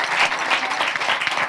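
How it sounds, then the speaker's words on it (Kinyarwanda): Congregation applause at a church gathering, steady dense clapping throughout, loud and close, with no speech over it. "mwanje mugakomera Imana amashyi"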